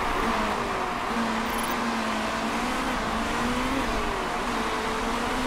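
Race cars in the Motorsport Manager video game drone steadily, several engines whining as they rise and fall in pitch while boosting around a corner, a continuous moderate hum with no talk.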